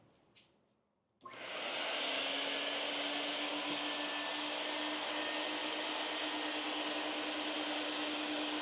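An extraction vacuum draws dirt out of the carpet of a rare Mercedes GTR Pro under detailing. After a brief click and a short startup burst, a loud, steady, close whirring suction roar holds without a break.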